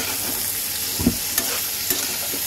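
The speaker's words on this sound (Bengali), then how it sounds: "এবার এটাকে সুন্দর করে তেলের মধ্যে কষাবো" Potatoes with salt, turmeric and cumin powder sauté in plenty of oil for a hilsa curry, a steady close sizzle broken by three quick scraping stirs of a spoon, no talking.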